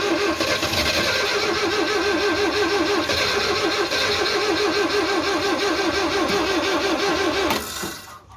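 The engine of a 1974 Citroën DS21, not run for over six years, idles steadily with a pulsing, slightly uneven mid-pitched beat, loud and close, then cuts off abruptly near the end.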